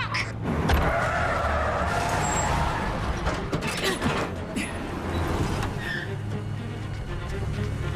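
A truck or van rumbles and comes to a stop, with a low engine drone, mechanical clunks and rattles, and a fading rumble as it settles.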